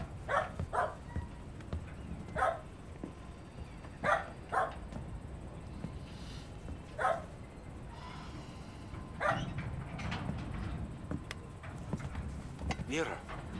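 Dogs bark in short, repeated bursts spaced a few seconds apart at moderate distance, with some paired yips, over a low outdoor background.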